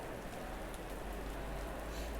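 Rain falls in the Assetto Corsa Competizione racing game at Zandvoort, a dense, even hiss of downpour that stays constant and fairly quiet throughout.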